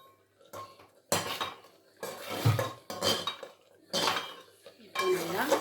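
A spoon stirs sweet sakkarai pongal in a pot: about six separate scraping, clinking strokes at a steady pace, close and fairly loud, with short quiet gaps between them.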